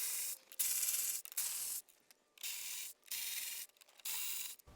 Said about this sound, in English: we want to remove this black plastic platform that the battery sat on by removing these 12mm bolts